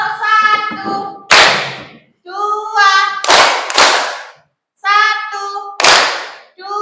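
Children in a classroom play a counting clap game led by a teacher: chanted voices alternate with sharp, loud group claps and thumps in a rhythmic call-and-response pattern, close and clear.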